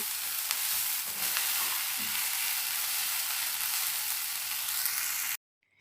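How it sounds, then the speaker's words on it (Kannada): Onion samosa stuffing is stirred together with fresh coriander leaves in a pan, giving a steady, dense sizzling and scraping that runs without a break and then cuts off abruptly. "ಇವಾಗ ಸ್ವಲ್ಪ ಕೊತ್ತಂಬರಿ ಸೊಪ್ಪನ್ನು ಹಾಕಿ ಇವೆಲ್ಲದನ್ನು ಚೆನ್ನಾಗಿ ಇನ್ನೊಂದು ಸಲ ಮಿಕ್ಸ್ ಮಾಡ್ಕೊಳ್ಳೋಣ."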